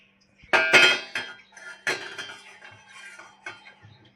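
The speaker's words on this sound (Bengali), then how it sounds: "এবারে একটা সসপ্যান গ্যাসে বসিয়ে নিচ্ছি" A metal saucepan clanks onto a gas stove, a few sharp, close metallic knocks and clinks followed by softer rattles as it settles, no voices.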